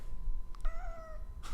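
A single short meow from a cat indoors, a clear rising-falling cry about half a second long over a low, steady room hum with a faint click just before it.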